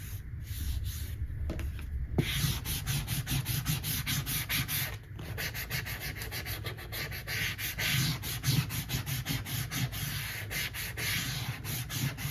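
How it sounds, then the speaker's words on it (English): Transfer tape being burnished onto a craft surface, a continuous close scraping rub with quick back-and-forth strokes, steady and fairly loud, with a brief pause partway through and no talking. "I'm going to burnish it to make sure that it stays put"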